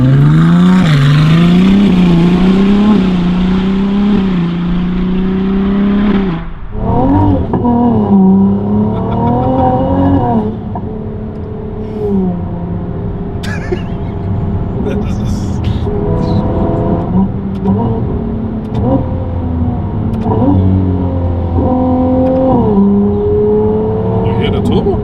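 Ferrari 296 GTB fitted with a Novitec exhaust, revving loudly up close, its engine note climbing and falling in several sustained pulls with a hoarse, resonant exhaust tone.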